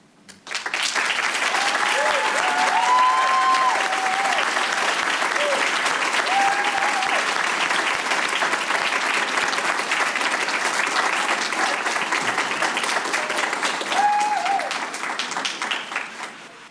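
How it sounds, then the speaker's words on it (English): A reception audience breaks into long, sustained applause for visual artists, a thick, even clapping wash for about fifteen seconds, with murmured voices and a couple of brief cheers in it before it tapers off. "a round of applause."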